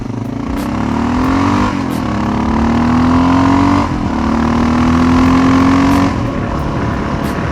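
A motorcycle revs up steadily under acceleration, its engine tone climbing through successive gears with brief dips at each shift, loud and close throughout.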